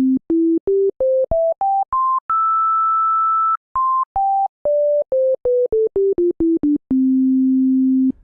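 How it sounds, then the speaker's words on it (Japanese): A synthesizer sine-wave oscillator plays pure, soft, overtone-free tones that step upward note by note to a long held high pitch. The tones then step back down and end on a sustained low note, clean and loud with no voices. "サイン波というのはこうちょっと柔らかめの音で、いわゆる倍音のない気音だけで構成された音という形になっています"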